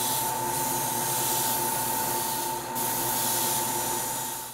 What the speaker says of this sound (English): as the airbrush is already moving, then you gradually allow the paint to flow